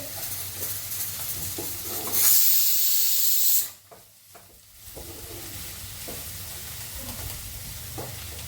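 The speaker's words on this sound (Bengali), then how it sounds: "এদিকে পটল ভাজি হচ্ছে" Pointed gourd fries in a pan with a constant sizzle. A loud burst of hissing rises for a moment, then fades back to the softer sizzle.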